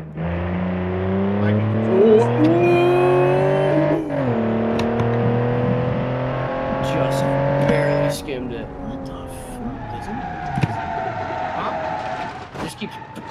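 A car drifting in the BeamNG driving game holds a loud engine drone with shifting revs and tire noise, while people talk over it.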